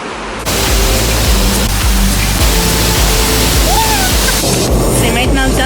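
Waterfalls at the Santuario de Cascadas nature trail near Mindo, Ecuador, roar as a loud, steady broadband wash of falling water that continues through the whole stretch, with faint voices underneath.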